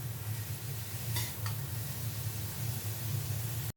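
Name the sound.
stirring zucchini and garlic frying in oil in a pan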